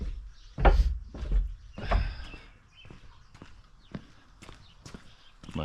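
Sharp hoof-like knocks sound at irregular intervals, a few louder thumps early on and lighter clicks after, fairly close with faint background noise.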